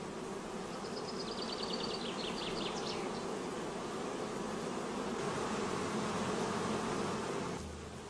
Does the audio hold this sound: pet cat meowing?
no